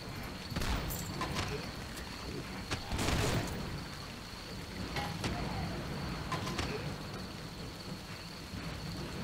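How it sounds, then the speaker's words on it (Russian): An acid rain shower in the Red Ball 4 video game makes a steady hiss of falling rain, broken by several louder crackling, rumbling bursts like thunder, with no talking. "У нас будет кислотный ливень."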